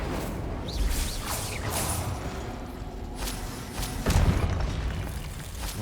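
The Incendio fire spell in the Hogwarts Legacy video game is cast amid combat, producing whooshing bursts and deep booming impacts under a continuous dense game soundscape.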